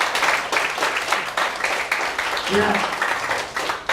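A small audience claps for mothers in a church gathering, a loose burst of applause that rises and fades, with a voice speaking over it partway through.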